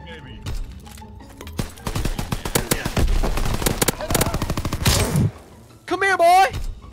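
Rapid bursts of K2P automatic fire in Call of Duty: WW2, loud and close, crackling in dense volleys over several seconds amid other battle noise, with a player talking excitedly over it.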